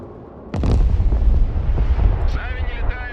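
Artillery fire in the Broken Arrow military strategy game: a sudden heavy boom followed by a long rumbling roll, with a faint voice and radio chatter coming in toward the end.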